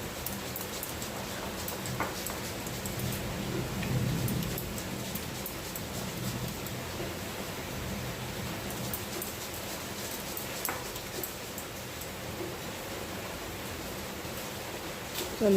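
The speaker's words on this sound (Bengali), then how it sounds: "প্রচুর বৃষ্টি হচ্ছে আজকে" Heavy rain falling outside, a steady broadband hiss that stays even and continuous throughout, heard from indoors at a moderate distance, with no talk.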